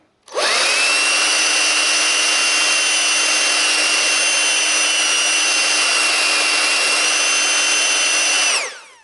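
Dnipro-M DVB-200 cordless leaf blower spun up to its top speed setting, a loud close high-pitched whine that rises quickly, holds steady for about eight seconds, then cuts off.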